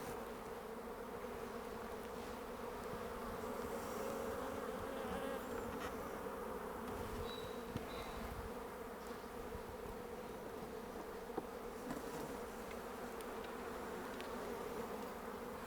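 A steady, dense buzzing of many calm honey bees around a hive fills the air continuously, close and even, with no voices.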